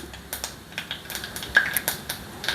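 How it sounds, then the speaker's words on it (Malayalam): Mustard seeds pop and crackle in hot oil, a quick irregular series of sharp little snaps heard up close. "കടുക് പൊട്ടിത്തുടങ്ങി"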